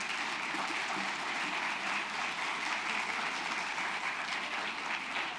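Audience applause welcoming a speaker at an architecture masterclass on building materials; a steady, dense wash of clapping with even loudness from start to finish.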